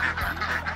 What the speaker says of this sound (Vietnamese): Đây là có cả ngỗng này. Ngỗng Việt Nam mình đây ạ.